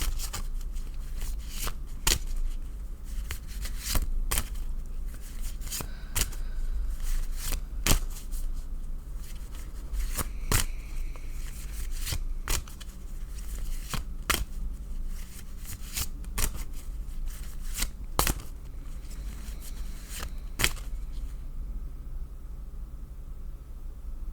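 Tarot cards from a Wildwood Tarot deck being shuffled by hand, a steady run of crisp riffling snaps and soft slides close up, repeating throughout with no talk.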